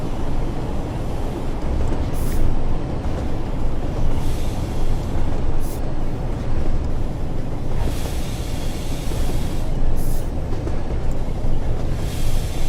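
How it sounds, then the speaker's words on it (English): In a train simulation game, a train brakes on arrival into Manchester, giving a loud, continuous rumble of wheels and running gear with occasional hissing bursts, steady and close throughout. "So we're now arriving into Manchester. Chuck a bit more brake in."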